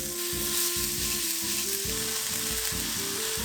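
Sliced beef stir-fried in a pan with a spoonful of oil and a tiny pinch of salt gives a loud, steady sizzle, with rhythmic pulses of stirring and scraping running through it the whole time.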